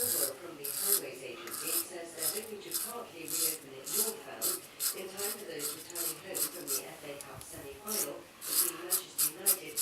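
A Merkur safety razor scrapes along the jaw in quick, close, raspy strokes, each a short bright burst repeated in an irregular rhythm.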